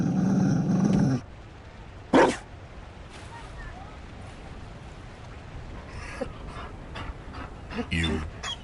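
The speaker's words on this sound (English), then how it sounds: "You found a dog?" Dog panting and growling in a fantasy role-playing video game, a Mabari war hound, heard in short bursts between long stretches of low ambient game sound.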